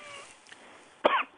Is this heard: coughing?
yes